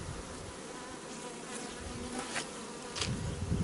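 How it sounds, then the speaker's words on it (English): Honey bees hum and buzz close by during a hive inspection, a dense steady drone that swells slightly near the end. "you look at this ball of bees up here"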